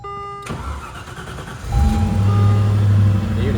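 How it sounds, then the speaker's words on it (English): A 1995 Land Rover Defender 90 NAS with a 3.9L V8 and Borla exhaust starts up and settles into a loud, steady deep rumble close by, with no talking. "You can hear it has a Borla exhaust"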